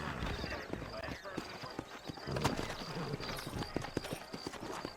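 Horses clip-clopping in the video game Red Dead Redemption, a steady run of hoof beats on hard ground with a possible whinny, heard under a man's spoken dialogue.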